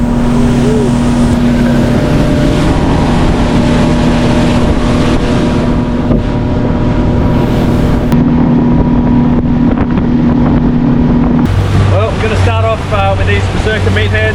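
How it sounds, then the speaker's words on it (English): A motorboat engine drones steadily at close range on the Great Barrier Reef, a low constant hum with wind buffeting the microphone throughout. "Sorry for the engine noise. I'm just teaching Courtney how to drive the boat."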